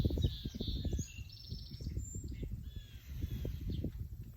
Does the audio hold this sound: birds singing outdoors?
yes